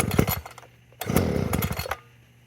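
A Proyama gas multi tool, primed and on choke, starts up: two short bursts of small two-stroke engine sputter and firing, close by, then it dies away.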